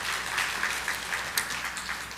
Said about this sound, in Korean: 박수로 환영하시기 바랍니다